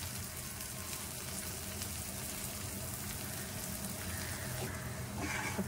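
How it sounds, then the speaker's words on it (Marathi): Chilies and garlic frying on low flame in a pan, a soft continuous sizzle and crackle heard close and fairly quiet, rising slightly toward the end. "हे सर्व मिरच्या लसूण आता फ्राय होत आलेले आहेत।"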